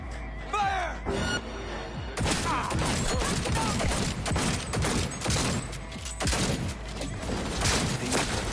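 A gunfire volley in Cyberpunk 2077, with dense overlapping shots blasting almost continuously for several seconds, loud and close, after a brief opening of game sounds.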